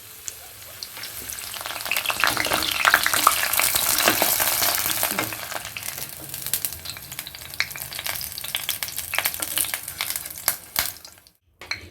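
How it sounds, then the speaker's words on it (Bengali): Mixed vegetables frying in hot oil before pointed gourd is added for a fish-head chhyachra: dense crackling sizzle with stirring and clinks, loud at first then slightly settling, ending abruptly. "অন্যান্য সবজি আগে ভেজে নিতে হবে"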